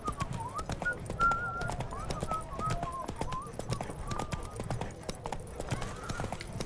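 Horse hooves clip-clop in a steady trotting rhythm in The Witcher 3 video game, fairly faint, with soft whistling-like melodic tones over the top.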